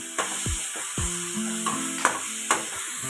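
Soaked, pressure-cooked chickpeas for chhole sizzle in a pan while a spoon stirs and scrapes against the metal, giving a few sharp knocks over a steady frying hiss.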